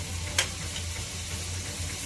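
Raw prawns frying for prawn biryani give a soft, steady sizzle with one sharp spatter near the start, fairly quiet over a low background hum.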